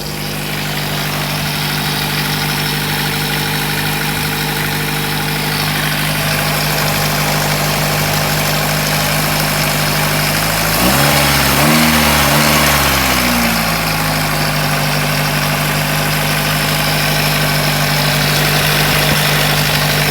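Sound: Nissan Sunny car engine idling after starting

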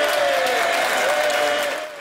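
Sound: applause from MPs in the House of Commons

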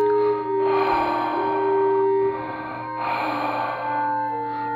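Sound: heavy breathing of an elephant, story sound effect

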